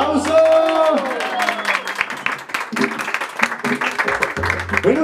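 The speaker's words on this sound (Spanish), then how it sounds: "¡Un aplauso!" Audience applause breaks out at a birthday serenade by a mariachi band, a dense burst of clapping that stays loud and continuous with voices mingled in.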